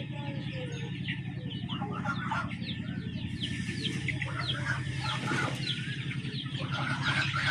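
A flock of Sonali, Fayoumi and desi chickens on a poultry farm, including young chicks, keeps up a continuous busy clucking and peeping nearby, with occasional wing flaps and a low mechanical hum underneath.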